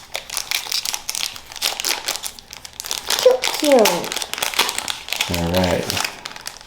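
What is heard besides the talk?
Pokemon Silver Tempest card pack being torn open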